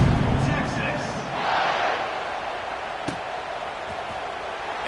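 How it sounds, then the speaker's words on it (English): A football stadium crowd in San Jose State at Texas buzzes after a score, a broad murmuring roar that swells briefly, with a sharp thud partway through. "this crowd is buzzing after that last score"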